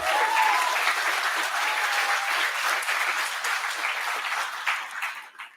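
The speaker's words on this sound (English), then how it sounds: "You want to clap?" Audience applause at a welcome-remarks event, a full, steady burst of many hands clapping that holds evenly and then tapers off near the end.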